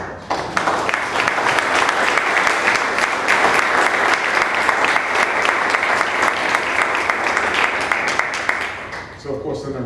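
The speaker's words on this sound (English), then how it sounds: "I'd like to give you a round of applause for doing that for" Loud, sustained applause from an award ceremony audience at the Richard Rybacki Award, a thick wash of clapping with audible whoops that holds steady for most of the span before tapering off near the end.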